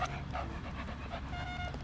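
A dog named Maggie pants in quick, breathy bursts close by after being called, with small whimpering tones mixed in over a short stretch.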